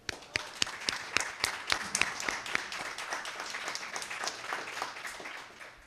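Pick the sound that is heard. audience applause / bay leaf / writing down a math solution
audience applause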